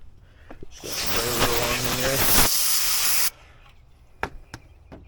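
A loud, sustained hiss of an aerosol body cleaner spray can on a Ford Focus ST for a few seconds, close up, followed by quieter clicks and taps; no speech.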